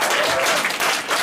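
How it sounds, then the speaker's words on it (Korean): Applause from a graduation and completion ceremony audience, dense and steady clapping at close range that fills the whole short moment without any voices. "박수."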